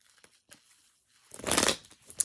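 A deck of tarot cards gets one quick shuffle: a single short, close burst of papery riffling and flicking after a near-silent start, with no talking.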